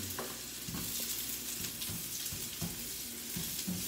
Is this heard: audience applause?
no